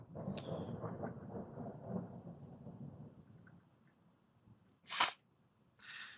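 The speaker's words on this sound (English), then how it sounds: "I haven't heard the thunder yet. There it is." Thunder follows lightning during a storm outside: a low, rumbling roll that swells and fades over several seconds, fairly distant and soft, followed by a few sharp brief noises.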